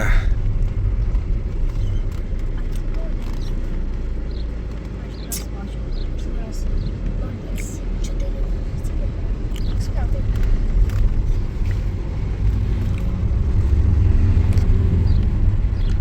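A BMW car drives toward a farm field with a loud, steady low engine and road rumble that holds for the whole stretch, with faint clicks above it.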